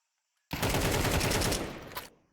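Pistols fire in a competitive Counter-Strike match, a sudden loud burst of rapid overlapping shots lasting about a second and a half before cutting off and fading.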